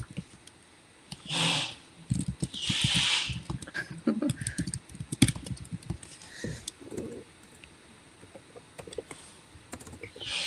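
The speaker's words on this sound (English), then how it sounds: "I hear somebody typing." Irregular clicking of keys being typed on a computer keyboard, with a few louder hissy bursts and scattered faint noises in between, no voices.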